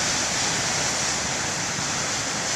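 Ocean surf rolls in as a continuous broadband roar at the lighthouse main beach, dense and unbroken, with no voices over it.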